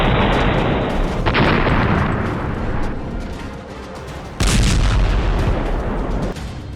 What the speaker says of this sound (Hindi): हमास के लड़ाके इजरायल के उस बुलडोजर को धमाके से उड़ा रहे हैं